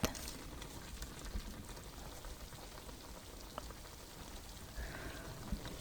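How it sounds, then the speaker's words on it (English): Meat and potato stew, nikujaga, simmers gently under a drop lid in a pot, giving a steady, quiet bubbling and soft patter that runs evenly throughout with a few small pops. "So it's gently simmering and cover with a drop lid"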